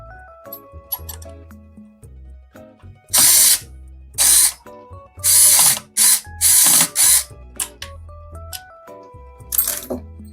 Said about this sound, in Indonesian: Kita pasang pakai obeng.